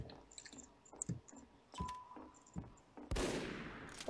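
Gunfire in Team Fortress 2 during a one-on-one sniping match, with a few faint, scattered shots and clicks and then a louder burst near the end.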